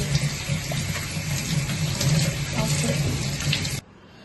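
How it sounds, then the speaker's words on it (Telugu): Fish being washed under a steadily running tap, the water splashing continuously and close for nearly four seconds before cutting off abruptly. "ఇలా వాటర్ వేసుకొని బాగా క్లీన్ చేసేసుకోవాలండి."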